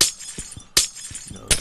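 Three sharp glass-breaking crashes in a survival video game ring out at an even pace, each a bright shattering burst with brief tinkling after, close and loud with no talk.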